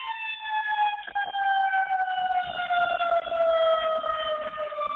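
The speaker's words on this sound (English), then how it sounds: "I have sirens going by my window." Police sirens pass outside a window, a loud wailing tone that slowly drops in pitch as the vehicles go by, continuous for the whole stretch with no talking.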